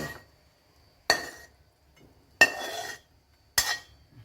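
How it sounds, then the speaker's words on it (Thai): Metal spatula strikes and scrapes in a pan while stir-frying cauliflower, broccoli, snow peas and fish balls, three sharp clattering bursts separated by quiet gaps, close and fairly loud. "ผัดดอกกระหล่ำบรอกโคลี่ถั่วลันเตา ใส่ลูกชิ้นนะคะ"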